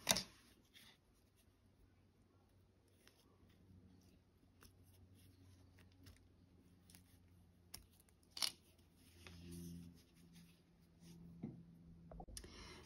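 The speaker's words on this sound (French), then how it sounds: "Je ne garderai pas de fil et je coupe." Scissors snipping crochet yarn while finishing a crocheted Mary figure for a Christmas nativity: a couple of sharp, close cuts separated by quiet rustling and faint handling noises, with no talking.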